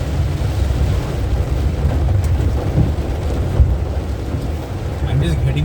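Heavy monsoon rain in Chennai drumming steadily on a moving Tata Nano AMT hatchback, a dense, loud, unbroken roar with a low rumble underneath, heard from inside the car.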